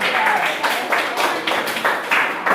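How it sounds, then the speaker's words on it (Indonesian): A classroom group gives steady applause for a student presentation group during a teacher-training lesson in Palu, a dense, loud, continuous patter of many hands clapping close by, with no one speaking. "kita berikan aplaus untuk kelompok presentasi yang kedua"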